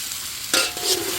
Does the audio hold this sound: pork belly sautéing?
yes